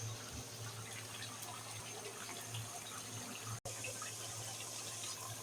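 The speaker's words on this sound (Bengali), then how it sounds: "এখন আমি গরম পানি ঝোলের জন্য দিয়ে দিব" Hot water being poured into beef curry to make gravy, a quiet continuous splashing pour with a brief break partway through, no voices.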